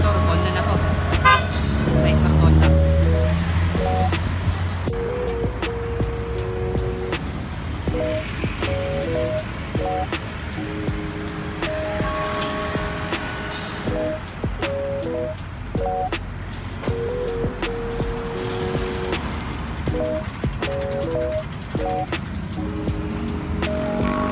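Steady road traffic on Aguinaldo Highway near Tagaytay, with car engines rumbling past and repeated horn toots and honks over a continuous roadway drone throughout.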